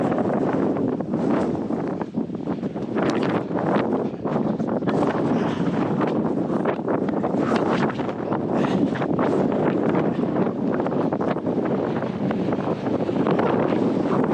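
Strong, steady wind roaring and buffeting across the microphone on an exposed mountain trail, loud and constant for the whole stretch with no voices.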